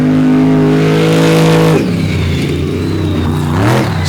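A long-wheelbase, low-slung off-road racing truck roars loud and close on a dirt track, holding a steady high rev before the pitch drops sharply as it lifts off, then climbs again near the end.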